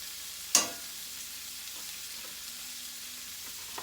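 Onion fries for succotash with a soft, steady sizzle, marked by one brief sharp clatter early on and then a faint, even crackle of hot oil.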